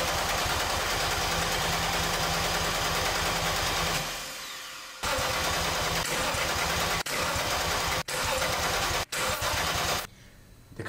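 A turbocharged BMW M50 engine in an E30 cranks on the starter with the throttle held wide open for a compression test, a loud steady rhythmic churning that cuts out and restarts in several short bursts.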